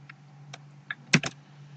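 Several sparse keystrokes on a computer keyboard enter a short variable name during a programming lesson: a handful of separate, close clicks over a faint steady hum, with one quick double tap near the end.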